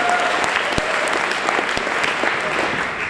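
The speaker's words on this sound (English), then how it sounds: "How dare you clap?" Steady applause from an audience, dense clapping at an even level throughout, with no voices on top.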